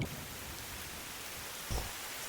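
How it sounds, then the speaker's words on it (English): Steady broadband rain hiss of a downpour landing on puddles, constant and enveloping throughout, with a brief low thump near the end, closing an anime episode. "the deafening sound of rain as it, you know, rains on the puddles"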